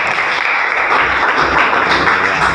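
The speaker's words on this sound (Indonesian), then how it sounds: "Kita kasih aplaus dulu" A classroom of students applauding together, a dense, even burst of clapping that stays steady and close for its whole length.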